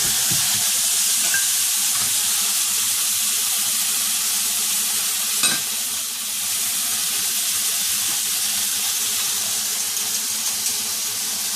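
Steaks frying in a hot pan, a steady broad sizzle with a few faint clinks, continuous and close throughout.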